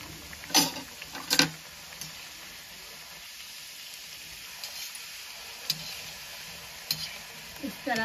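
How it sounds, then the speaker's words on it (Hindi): Mathri made from wheat flour and moong dal frying in hot oil, with a steady low sizzle and a few loud clatters of a stirring spoon scraping the pan early on, then scattered lighter knocks. "अब इन मठरियों को सेक लेंगे।"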